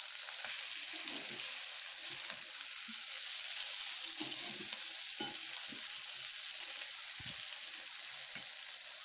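Potato bhaji is stirred in a pan after steaming on low heat, a soft, continuous sizzle with faint scraping stir strokes scattered through it and no talk.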